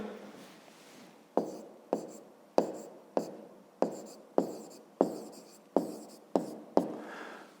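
Close, crisp taps of a pen or chalk marking out a math exercise by hand, ten evenly spaced strokes about half a second apart after a soft rustle.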